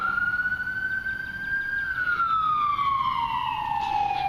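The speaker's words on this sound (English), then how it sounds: "Pardon the siren going by." A siren wails steadily, its pitch rising then sliding lower as the emergency vehicle passes by, fairly loud over a low traffic rumble.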